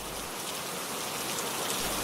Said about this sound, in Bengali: আজ বৃষ্টি হচ্ছে।